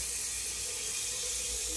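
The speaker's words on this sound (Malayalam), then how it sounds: "ഇനി നമ്മൾ ഇതിലേക്ക് കുറച്ച് വെള്ളം ഒഴിക്കണം" Water pours steadily into a pot in a constant, rushing stream, close and even throughout.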